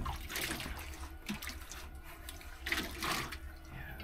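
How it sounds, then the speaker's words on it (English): Water splashing and sloshing as a metal gold pan is rinsed out during winter prospecting at an Alaskan mineshaft, a steady close wash with a few brief louder swirls and no talk. "We'll put some water in here and we'll rinse it out."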